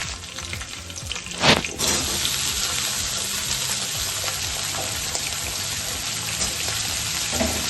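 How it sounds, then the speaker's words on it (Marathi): Cut, washed potatoes fry in a pan with green chilli, a steady broadband sizzle crackling throughout, with one sharp clatter of a spoon or lid early on and no talking. "त्याच्यात स्वच्छ धुवून घेतलेला बटाटे कट केलेले, त्याला थोडंसं फ्राय करून शिजू दे."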